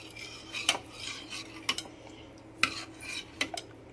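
A metal spoon clinks against a pot while stirring sambar with drumsticks and tamarind water, giving four or five sharp taps spaced irregularly over quiet background.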